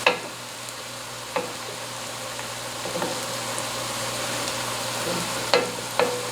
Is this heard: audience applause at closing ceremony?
no